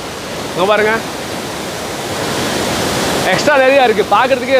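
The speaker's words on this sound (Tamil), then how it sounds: "தண்ணி வந்து ஃப்ளோ ஆகி போயிட்டு இருக்குது" Heavy floodwater pours over the spillway of the KRP dam in Krishnagiri after October rain, a broad, steady roar of rushing water filling the scene while someone speaks over it at the start and end.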